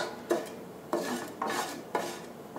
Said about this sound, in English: But here, you just continue stirring.